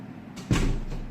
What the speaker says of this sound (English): Just get in and shut the door.